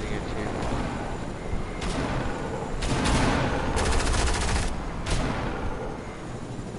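Bots in a PS4 shooter fire repeated gunshot bursts and rapid automatic volleys, loud and close, with gaps between strings of shots and a player's brief exclamation over them.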